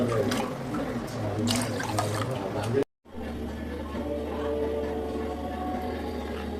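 Water poured into a bowl of washed sona masoori rice, a steady liquid fill heard over background talk and music, with a brief silent break midway before the pouring continues.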